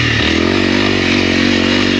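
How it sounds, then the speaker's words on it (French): A 2022 Honda CRF300L motorcycle engine drones steadily and loudly while being ridden, a close, continuous buzzing hum with no pauses or speech. "Et une moto à couper le souffle aussi."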